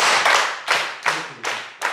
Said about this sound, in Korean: 박수를 어떻게 치냐면은 이거를 이렇게 한 번에 쳐봅시다